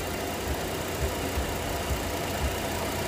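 A 2008 Jeep Grand Cherokee 4.7L V8 4x4, with a dead battery and smoke from under the hood, cranks and runs with a steady low engine rumble and faint rhythmic pulses, fairly quiet and without voices.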